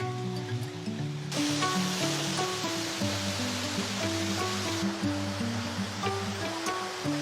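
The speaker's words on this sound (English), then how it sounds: "We're now coming up to this waterfall." A waterfall on a mountain trail roars in a steady, dense rush of falling water that fills the whole clip, close and loud, with no voices.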